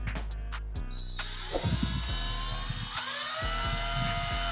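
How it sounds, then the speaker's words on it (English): A power drill whines at high speed, spinning up and biting into wood in several short bursts, with the motor pitch rising and falling between pulls. "What I like to do is just drill a little bit"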